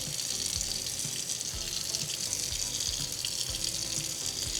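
Running tap water splashes steadily into a sink while a curly clip-in hair extension is rinsed of shampoo, a continuous close hiss with faint soft bumps and no talking.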